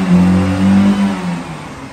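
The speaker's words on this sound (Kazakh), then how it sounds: "Бер газ до конца." A Toyota Camry 20-series engine revved hard to full throttle, a loud sustained mid-pitched roar with steady harmonics that holds close and strong, then eases slightly toward the end.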